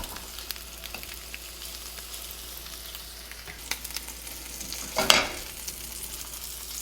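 Egg frying in a pan as it is flipped onto its cheese side to melt Swiss and cheddar for a homemade Egg McMuffin, a quiet steady sizzle with light scrapes and a louder spatula clatter and hiss near the end.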